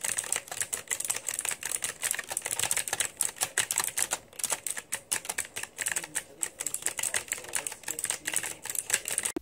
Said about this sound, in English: you're able to hear the mechanical keyboard at work